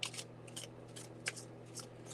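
Tarot cards being shuffled by hand: soft, quiet riffling and flicking strokes in irregular bursts, with one sharper snap, over a low steady hum.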